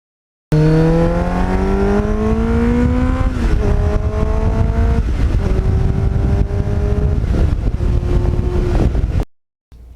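A 1989 Kawasaki GPX750R motorcycle with a Muzzy muffler revs loudly and close, the exhaust note climbing through long pulls and short blips for about nine seconds before cutting off, with some wind buffeting.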